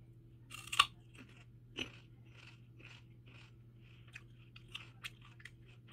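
Freshly harvested raw Jerusalem artichoke is bitten with a loud crisp crunch, then chewed in a steady run of soft, close crunchy munches.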